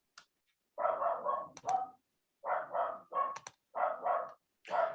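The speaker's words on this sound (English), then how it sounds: "I'll apologize if you can hear my dogs barking in the background." Several dogs in a house bark in short bursts, often two or three at a time, separated by brief pauses. The barking is moderately close and not very loud, and a few sharp clicks sound between the bursts.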